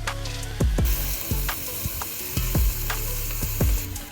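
Beef bacon sizzles and renders in a Dutch oven, a steady crackling fry broken by repeated sharp clacks of a utensil stirring against the pot, close and loud with no talking.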